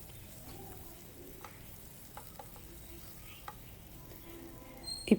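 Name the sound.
tawa chicken frying and being stirred with curry leaves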